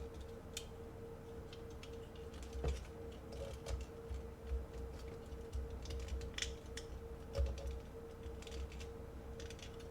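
A plastic transforming robot toy in red and yellow gives faint, scattered clicks and snaps as its shoulder joints rotate and double clips lock into place, over a steady low hum.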